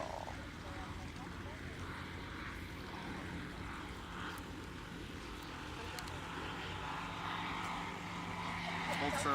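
An aircraft arriving at the Oshkosh airshow, landing on Runway 36, sets up a continuous propeller drone that swells slightly toward the end, with voices talking underneath.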